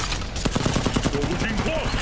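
Brief burst of massed gunfire from soldiers firing in Mortal Kombat X, dense overlapping shots under a game score and effects, with a voice faintly present.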